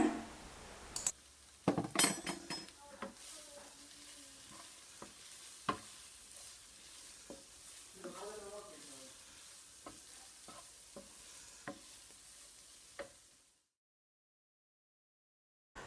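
Goat liver sizzles and fries steadily in a pan while a utensil stirs and scrapes, with occasional clinks of metal against the pan.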